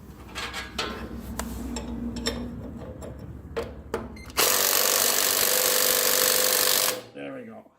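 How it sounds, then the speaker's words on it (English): Impact gun tightening a bolt on a 1941 Ford 9N industrial tractor: a loud, sustained hammering rattle for about three seconds, preceded by shop clatter and talk. "I'm going to blast it with an impact gun is what I'm going to do."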